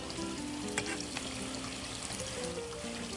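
Hot oil sizzles and crackles steadily in a continuous bubbling hiss as remora fish fingers deep fry, with a few sharper pops and spits, close and fairly quiet.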